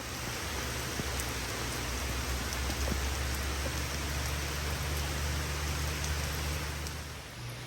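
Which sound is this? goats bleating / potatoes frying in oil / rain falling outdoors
rain falling outdoors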